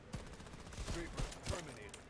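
Flare gun firing in a multiplayer shooter video game, a few quick, faint pops and thumps spaced across the moment, with muffled voices underneath.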